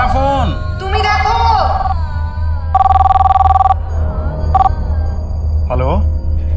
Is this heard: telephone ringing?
yes